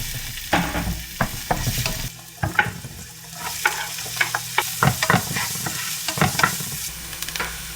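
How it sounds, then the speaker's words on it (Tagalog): Tofu and bean sprouts sauté in hot oil, with loud sizzling and repeated clatter of stirring from a spatula close by, and no talking. "Dito naman natin igisa yung ating tofu and toge."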